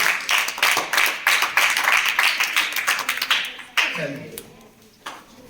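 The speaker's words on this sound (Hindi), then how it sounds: "तो तब सही है तो ताली बजा दो" Schoolchildren in a maths class clap their hands in a quick, rhythmic burst of many sharp claps that thins out and stops near the end.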